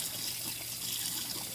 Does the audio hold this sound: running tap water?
yes